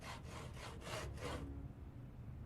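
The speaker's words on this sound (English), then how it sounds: "we're gonna need to saw up a couple logs here" Wooden logs are sawn into planks in the Project Zomboid video game: a rhythmic series of about five harsh back-and-forth saw strokes, loud and close, then it stops into quiet.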